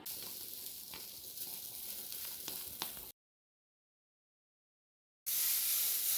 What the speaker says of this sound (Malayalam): അത് നമ്മൾ നാളികേരമാണ് വറുക്കാൻ പോണത്